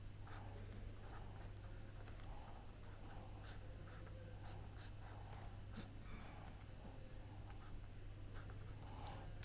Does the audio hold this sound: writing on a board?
yes